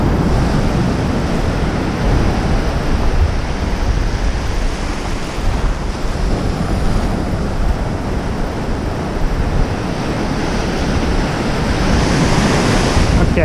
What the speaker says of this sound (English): Gotta wait those waves out.